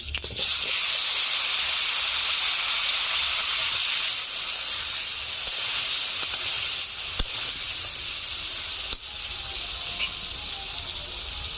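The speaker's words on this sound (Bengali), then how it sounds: "এই তেলে আমি আলুগুলোকে ভেজে নিচ্ছি।" Steady hissing sizzle of potatoes frying in oil left over from frying rohu fish, continuous and fairly loud throughout, with a couple of brief clicks and no talking.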